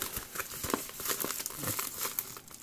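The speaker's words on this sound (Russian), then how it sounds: "И пакет, внутри еще один вот такой пакет" A plastic package bag is crinkled and pulled open during an unboxing, with continuous close rustling and crackling lasting a few seconds.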